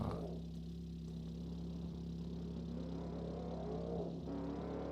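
A car engine drones steadily with a low hum and a faint rising rev, moderately distant, with no talking.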